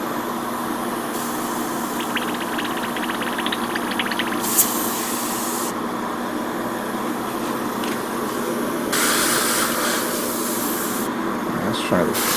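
An airbrush sprays non-lacquer paint onto a 1/100 Gundam Barbatos Lupus model kit, giving steady close hiss with louder bursts of spray under a background motor drone, with some brief rattling and a voice talking at times.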